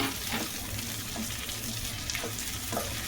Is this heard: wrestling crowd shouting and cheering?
no